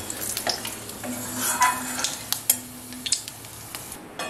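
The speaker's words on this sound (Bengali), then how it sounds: "এটাকে ভালো করে নেড়ে নেব" Whole spices such as cardamom, shahi jeera and a bay leaf stirred in a hot pan for Kolkata-style egg biryani, soft sizzling under scraping spoon strokes and light metallic taps, close and without talk.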